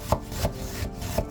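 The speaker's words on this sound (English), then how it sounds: "Slice the onion into 4 to 5 millimeter slices" A knife slices through an onion on a cutting board, giving three or four soft, evenly spaced chops close by with quiet rubbing between the cuts.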